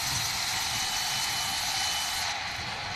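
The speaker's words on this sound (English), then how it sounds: "But I just wish I could shut that pighead engine down," Steady broadband engine roar of an aircraft running in Microsoft Flight Simulator 2020, a loud continuous hiss-like drone holding level throughout with no talk.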